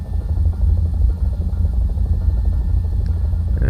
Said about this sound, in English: And we have a helicopter,